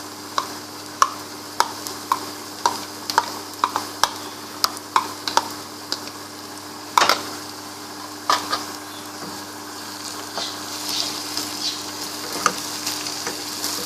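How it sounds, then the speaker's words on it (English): Ginger garlic paste hits browned onions in a pan for chicken qeema, giving a steady close sizzle dotted with sharp regular ticks of stirring that thin into a denser, busier crackle near the end. "Well, now our onions are almost done, so we are gonna add our ginger garlic paste to it."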